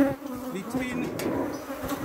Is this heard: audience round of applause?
no